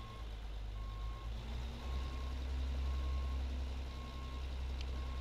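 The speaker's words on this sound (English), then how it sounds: "if you go for the high-speed backup, you're really going fast. Like where you put it in high-range reverse." Reversing beeps from a Rubber Duck R700 truck in American Truck Simulator, an evenly spaced series of steady electronic beeps over a low, continuous engine rumble, with no talking.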